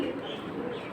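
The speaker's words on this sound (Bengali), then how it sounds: "খুব সুন্দর কবুতর" Pigeons coo softly at a pigeon market selling high-flying silver and Safchila birds, low throaty calls rising faintly from background bustle in a brief moment.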